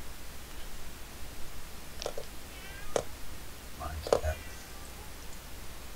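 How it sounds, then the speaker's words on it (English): A cat meows faintly in the background, two short, thin mews separated by a couple of seconds over quiet room noise and soft whispery voices. "Hear a cat in his background."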